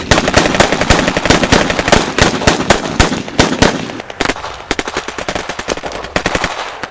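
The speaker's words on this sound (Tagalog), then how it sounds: "Sunod-sunod na putok." Loud automatic gunfire sound effect in a horror story: rapid, continuous bursts of shots for about four seconds, then sparser, uneven volleys trailing off.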